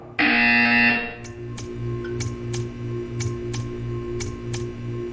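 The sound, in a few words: buzzer in video game Portal 2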